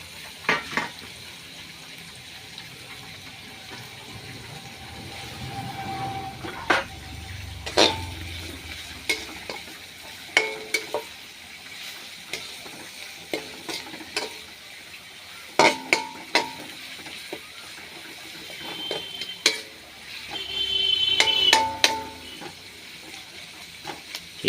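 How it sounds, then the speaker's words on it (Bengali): Sliced onions fry into beresta in mustard oil, a continuous sizzle and hiss broken by repeated sharp scrapes and clinks of a spatula stirring in the pan, close and alone. "তাই আমরা সরষের তেলে আজকে বেরেস্তা ভাজছি।"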